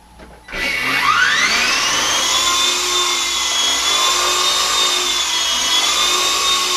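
A Walkera V370D01 RC helicopter spools up and flies, its high electric motor and rotor whine rising sharply in pitch after a quiet start, then holding as a loud, steady, near buzz.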